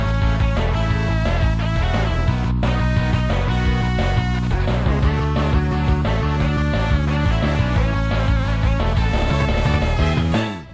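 Energetic Mario Kart Super Circuit opening music with a driving electric guitar riff over a deep, steady bass line, loud and continuous throughout.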